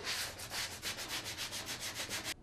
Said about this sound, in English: Use the sanding block to get off all of these little rough nubs that come up on the foam when it tears